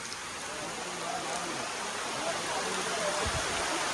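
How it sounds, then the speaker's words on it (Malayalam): Heavy rain pours steadily at Pamba near Sabarimala, beside ready stalls, in a dense, hissing wash of noise that fills the whole clip without letting up. "ഇവിടെ നല്ല മഴയാട്ടോ ഇവിടെ സ്റ്റാളുകളൊക്കെ റെഡി ആയിട്ടുണ്ട് പക്ഷെ മഴ ഭയങ്കര മഴയാണ്"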